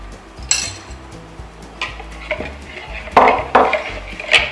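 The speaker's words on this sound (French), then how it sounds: "On va commencer par mélanger le beurre." Butter being mixed with sugar in a bowl for blueberry muffin batter: close scraping and clinking of a utensil against the bowl in uneven strokes, growing busier toward the end.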